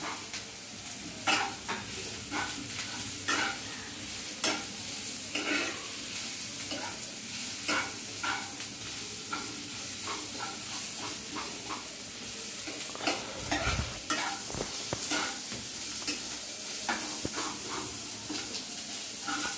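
Turmeric, ginger and onion sizzle steadily in a frying pan for an aloo gobi paratha filling, with a spatula scraping and stirring in frequent close strokes over the constant frying hiss.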